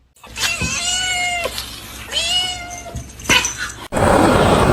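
A kitten meows and cries three times in long, drawn-out, wavering wails, close and clear, followed by a burst of loud rustling noise at the end.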